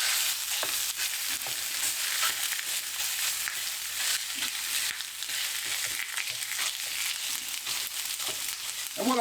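An Aldi fajita and hoisin stir fry hisses and sizzles steadily in a hot pan, loud and close, with occasional stirring scrapes and no talking.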